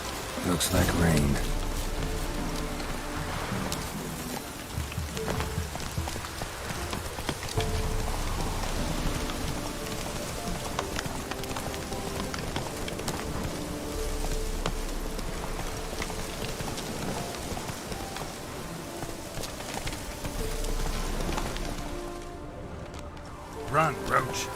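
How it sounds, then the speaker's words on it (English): Rain falls steadily in The Witcher 3, a continuous wash of drops mixed with a horse's clip-clopping hooves and game music throughout. "Looks like rain."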